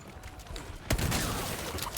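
A single loud shotgun blast in Resident Evil 4 Remake, a sharp close report that decays into a ringing tail, set against a steady game ambience.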